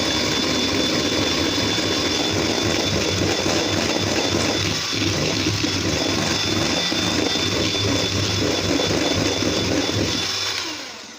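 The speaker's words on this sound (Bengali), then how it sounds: "এখন যখন একদম পুরো ফোম হয়ে যাবে তখন আমি চিনি অল্প অল্প করে দিয়ে বিট করব" An electric mixer beats egg foam as sugar is added, a steady loud motor whir with a constant pitch, running continuously before winding down at the end.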